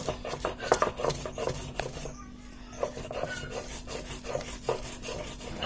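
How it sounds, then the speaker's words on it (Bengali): Chili being ground on a stone pata slab: rhythmic, scraping rubs of stone on stone repeat roughly every half second, close and moderately quiet, with a steady hum beneath. "আগে মরিচটা বেটে নিচ্ছি আমরা"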